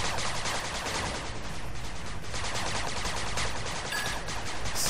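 Rapid bursts of gunfire from guns in the video game 8 Bit Armies, dense crackling shots rattling continuously and loudly throughout, with no voice over them.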